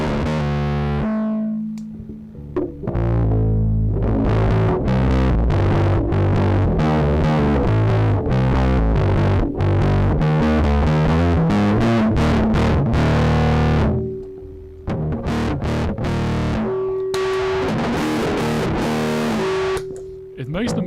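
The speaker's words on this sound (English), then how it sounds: "It makes the muff sound like a heavy distortion. Metal distortion." An electric guitar played through a heavy muff-style distortion pedal, loud and saturated, with chugging riffs and sustained notes broken by brief pauses.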